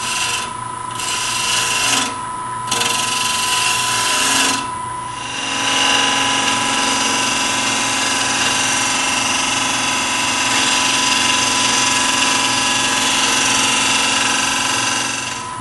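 A wood lathe spinning a segmented turning with a weak glue joint, its steady motor hum carrying light gouge cuts that rasp on and off in the first few seconds before a long continuous cut.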